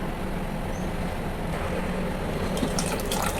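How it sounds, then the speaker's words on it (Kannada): Water pours steadily into a pot of sambar being thinned in a home kitchen, a continuous close splashing fill, with faint clinks near the end. "ನೀರು ಹಾಕ್ತಾಯಿದ್ದೀನಿ."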